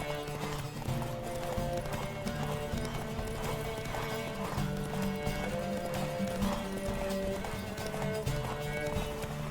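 Rhythmic hoofbeats of a galloping horse in The Witcher 3: Wild Hunt with an occasional whinny, steady and close, over a continuous layered musical backdrop.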